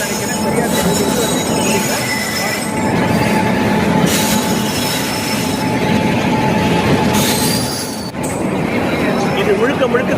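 A train hauled by a WAP7 electric locomotive rolls steadily past close by, with metallic wheel squeal and a constant electric hum over dense rumbling, continuous for the whole stretch.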